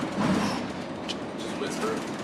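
Inside a moving train, a continuous broadband rumble and rattling hiss fill the short stretch, with faint voices murmuring underneath.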